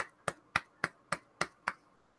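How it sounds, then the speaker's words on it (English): Seven slow, evenly spaced single claps sound close and fairly quiet, like a deliberate golf clap from one person. "Let's get a golf clap."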